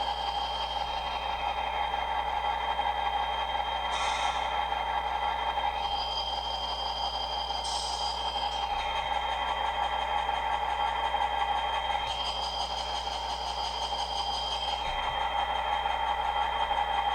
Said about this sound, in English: as you can hear it idling, you can kind of hear that high-pitched kind of whine.